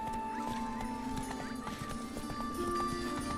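Roach, a horse in The Witcher 3 video game, gallops with quick, even clip-clop hoofbeats over a game soundtrack, the steady hoof rhythm running throughout at moderate loudness.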